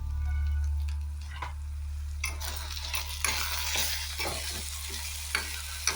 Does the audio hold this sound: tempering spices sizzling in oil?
yes